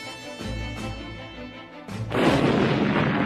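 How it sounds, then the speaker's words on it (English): Heavy naval and air bombardment during a wartime beach landing: deep booming blasts in the opening seconds, then a loud, sustained roaring explosion that fills the rest of the clip. "Heavy naval and air bombardment cleared the path ahead of them."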